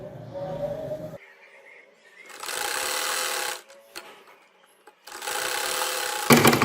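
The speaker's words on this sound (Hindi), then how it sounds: "चलिए अब शोल्डर स्टिच करते हैं।" An electric sewing machine stitches the shoulder seam of a baby frock in two steady whirring runs separated by a pause, with a faint hum beforehand and a burst at the end.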